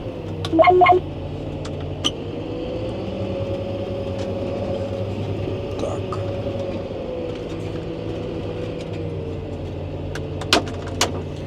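A tractor engine runs steadily at low, unhurried revs while cultivating a field being prepared for sunflowers, a continuous droning hum with a few brief clanks and rattles near the start and end.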